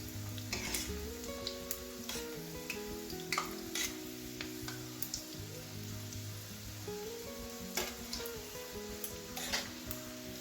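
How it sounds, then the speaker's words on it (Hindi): Potato cheese fingers frying in hot oil over a medium flame, a steady soft sizzle punctuated by sharp crackles and pops as they are turned, fairly quiet and close. "मीडियम फ्लेम पर ही हम इसे सारी साइडों से पलटाते हुए इसको गोल्डन ब्राउन कर लेंगे।"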